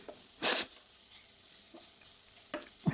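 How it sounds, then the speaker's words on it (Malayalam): Mussel thoran with grated coconut being stirred in a pan: a sharp scrape near the start, then a few soft, brief scraping touches over quiet background. "തേങ്ങ ചിരകിയതും കൂടി ഇട്ട് കൊടുത്ത് നല്ലതുപോലെ ഒന്ന് ഇളക്കി കൊടുക്കണം"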